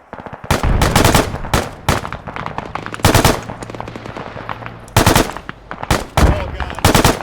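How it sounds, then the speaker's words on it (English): Large-caliber gunfire in the video game Arma during a Stratis mission: heavy bursts of automatic fire, loud and close, repeating in several volleys with a constant rumbling battle background and no talk. "Big caliber gun."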